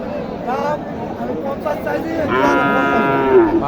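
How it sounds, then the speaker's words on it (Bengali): Cattle mooing at a busy livestock market in Dhamoirhat, Naogaon, with several drawn-out moos rising over a murmur of crowd chatter and nearby voices. "ভালো করে দেখান গরুটা চমৎকার একটা গরু"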